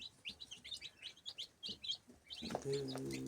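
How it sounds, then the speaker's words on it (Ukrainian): Many small incubator-hatched Brahma, Faverolles and crested chicks cheep in quick, high, overlapping peeps nearby, followed by a louder, lower clucking or humming sound at the end. "Це наші курчатка, які налупилися."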